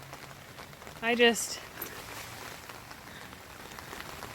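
Steady rain patters down in a backyard garden, a soft continuous hiss with scattered drops. A person speaks briefly over it.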